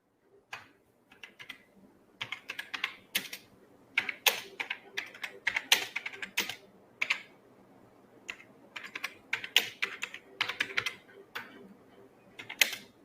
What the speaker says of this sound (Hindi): मेरे कीबोर्ड टाइप कर रही कीबोर्ड की आवाज है